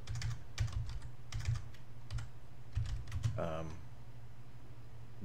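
Quick bursts of clicky keystrokes on a computer keyboard while a command is typed, soft and close, with a short pause and a brief voice near the end.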